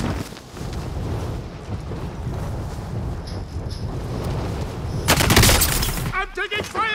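Heavy automatic gunfire and explosive bursts in Call of Duty: Modern Warfare, a dense continuous barrage with a louder volley near the end, under hurried talk.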